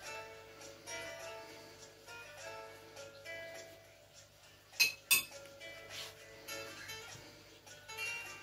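Mustard being mixed into a cheese scone mixture in a bowl, with a spoon clinking and scraping against the bowl in soft irregular taps and a couple of louder knocks.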